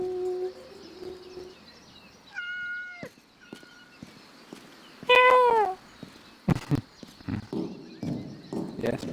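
A cat meows once in the medieval court-management video game Yes, Your Grace, a clear, loud, rising-and-falling call that comes after game music and horse hoofbeats, with a voice speaking afterward.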